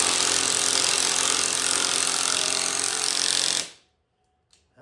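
A ball joint press with flange adapters grinds hard as it forces a spring bushing into a 1969 Dodge Charger, a loud continuous mechanical whir running for several seconds before it stops abruptly, leaving near silence and one faint knock.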